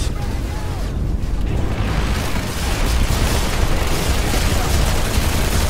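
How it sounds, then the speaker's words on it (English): A frag grenade detonates in a Planetside 2 battle, a loud booming blast set among constant dense gunfire and explosions, with a voice speaking over the din. "Fuck it, I'm just gonna throw a random frag."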